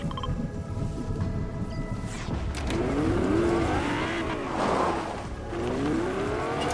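A car driving in Fortnite, its engine droning steadily with rising and falling revs over several seconds amid game background sound, no talking.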